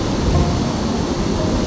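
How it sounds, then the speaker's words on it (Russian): Steady, deep rushing of water deep inside a canal lock on the Rideau Canal as it fills, a continuous dense roar with no breaks, fairly loud and close. "шумит вода где-то в глубине"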